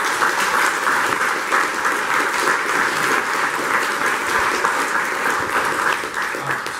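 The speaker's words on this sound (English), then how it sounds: "We probably get a big round of applause from Matt." A large crowd applauds continuously, dense clapping holding at a steady, loud level throughout with no pause.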